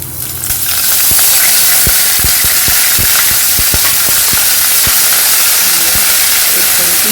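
Water poured into a hot tempering of chili, curry leaves and asafoetida for sev khamani bursts into a loud, sustained hiss and boil, with a rapid run of crackling pops over the rush of steam.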